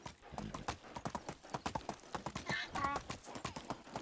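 Donkey hooves clip-clop in Medieval Dynasty, a quick run of sharp, close hoof knocks in an uneven walking rhythm, with a brief whinny-like call partway through and no talk.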